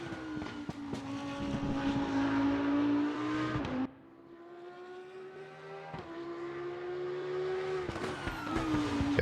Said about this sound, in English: that cracking and popping from the exhaust